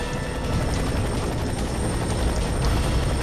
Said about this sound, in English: Chopper Echo 2-4 is right on top of you.